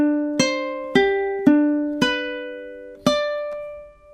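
Ukulele picking measure 13 of a song, six plucked notes in a slow even rhythm, each ringing and decaying, close and solo.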